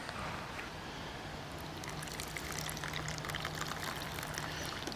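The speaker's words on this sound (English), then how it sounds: "let's reserve off some of our pasta water." Pasta water pours out of a pot at a campsite in a steady rushing, splashing stream, continuous and close, with a faint low hum underneath.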